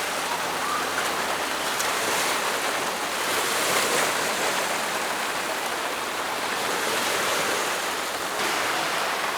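Sea waves at Bluefields Beach, Jamaica, wash steadily as a broad, continuous surf roar with gentle swells in loudness, close and fairly loud, with no talking.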